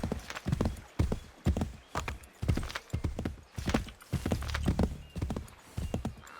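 Horse hooves clip-clop steadily and loudly through most of the stretch in Assassin's Creed 3, with a brief whinny in the mix and no talking.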